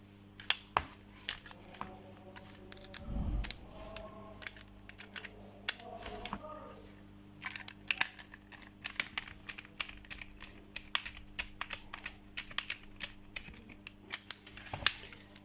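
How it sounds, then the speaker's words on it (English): Small screws being driven into an Xbox One wireless controller, model 1708, during repair: a dense run of light clicks, taps and scrapes from plastic parts and a screwdriver, close and fairly quiet, with one low thump early on. "first we have to install the screw"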